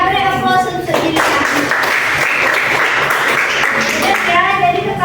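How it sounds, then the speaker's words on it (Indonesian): A classroom of students applauding a classmate, a dense burst of clapping that swells and then fades, with a voice speaking over its start and end. "Beri aplaus untuk Jilia."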